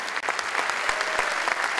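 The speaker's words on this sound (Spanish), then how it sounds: "Un aplauso, Christopher" Audience applause for Christopher Garrison at his anti-magic stage show: a dense, steady wash of many hands clapping throughout, fairly loud and sustained with no gaps.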